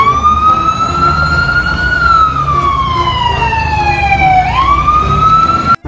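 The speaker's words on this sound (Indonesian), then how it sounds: "Widih, yang ini mobil pemadam kebakaran." A toy fire truck sounds its electronic siren, a loud close wailing tone that rises and falls slowly, then sweeps sharply upward before cutting off abruptly at the end.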